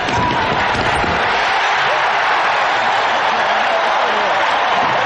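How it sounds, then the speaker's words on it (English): Arena crowd at the 1981 NBA All-Star Game, East vs West, cheering a basket by hometown favorite Mike Mitchell. A loud, continuous roar fills the space throughout, with a commentator talking over it. "The crowd ignited by that basket by their hometown favorite, Mike Mitchell."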